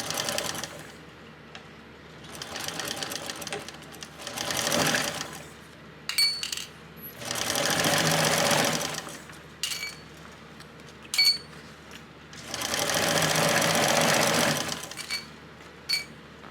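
A sewing machine stitches a narrow seam on a crossbody bag in several loud, steady runs with short gaps, punctuated by clicks and small clinks as the fabric is adjusted.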